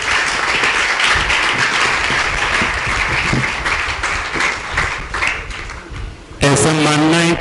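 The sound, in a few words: audience applause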